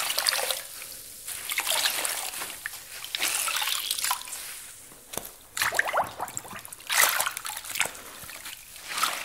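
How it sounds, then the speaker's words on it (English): A sponge dips into a rinse bucket and is wrung out, giving repeated close splashes, sloshes and trickling water that come in uneven bursts. "dip our sponge into the rinse bucket, squeeze it out, give it a couple turns against the grit guard"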